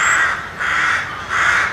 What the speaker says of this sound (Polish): nad polami rozległo się głośne krakanie wron z przyległego parku